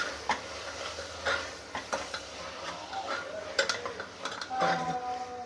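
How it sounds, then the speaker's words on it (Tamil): Mutton keema with onion and tomato being stirred in a pan, a spoon scraping and clinking against the metal in repeated strokes over a soft, steady sizzle. "நல்லா மிக்ஸ் பண்ணணும்."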